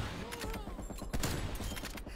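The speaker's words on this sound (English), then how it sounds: "I just popped him all with the sniper." Gunfire from a sniper rifle in Call of Duty on the Nuketown map, with a sharp loud shot near the middle standing out among a dense spread of other game gunfire and noise.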